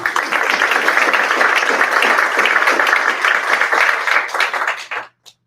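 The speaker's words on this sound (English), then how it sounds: "I think that deserves a round of applause" Ceremony audience breaks into sustained applause at the 2026 Connecticut Blue Ribbon Schools event, dense steady clapping filling the room for about five seconds before cutting off abruptly.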